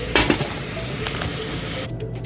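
An egg, daikon radish and onion mixture sizzles steadily in a pan on a stove at medium heat, with a couple of brief scraping stirs near the start, the frying dropping off sharply just before the end.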